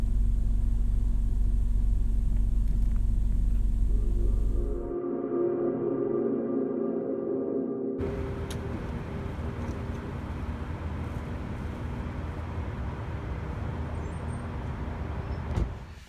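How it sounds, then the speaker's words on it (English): A car crossing over railroad tracks at night near an old rural station in North Carolina, heard as a steady low rumble and road noise that drops briefly then returns as a broad, continuous drone, with no talking. "definitely a car crossing over the tracks again down that end"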